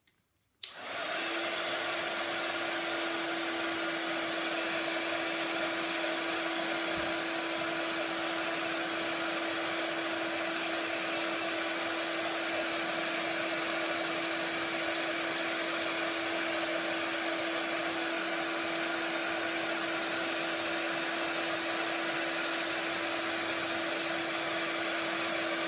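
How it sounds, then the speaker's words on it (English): A heat embossing tool melts baked texture embossing powder on a handmade card, switching on abruptly and then holding a loud, steady blowing whir with a strong constant hum for the rest of the clip, with no talking. "let's go again with the old heat tool"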